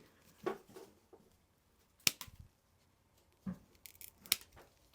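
Sharp snips of shears trimming goat hooves, a few separate crisp cuts spaced out with quiet gaps between, close and fairly faint.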